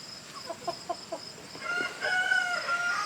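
A few soft clucks, then a rooster crows once, fairly faint and somewhat distant, with a faint steady hiss behind it.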